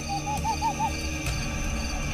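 An owl hoots a quick series of about five soft, evenly spaced calls, fairly close, over a steady background hum.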